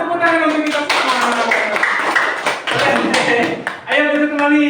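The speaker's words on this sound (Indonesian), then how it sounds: "Tepuk tangan untuk kita semua." A class of children at a special-needs school claps hands together in a lively, uneven burst, with voices talking and calling out over and between the claps.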